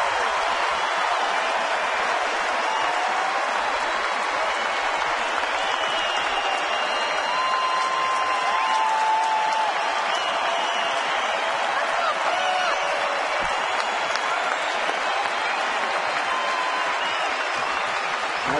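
A sellout baseball stadium crowd applauds and cheers in a dense, steady roar that holds loud and even for the whole stretch, with a broadcaster's voice faintly over it.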